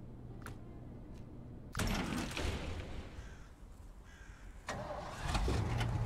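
A 6.6 litre truck engine in the Snowrunner video game cranks and roars into life, then settles to a deep idle before revving up again, loud and close.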